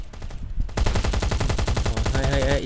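Rapid automatic gunfire in the survival video game Last Day Rules Survival, a dense continuous burst of shots with a steady rattling rhythm, loud and close.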